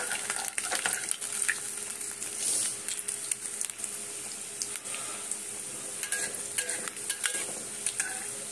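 Potato and paneer samosas crackle in hot oil while a spoon stirs and scrapes the pan, a continuous close sizzle with frequent clinks and bursts of spattering, no one talking.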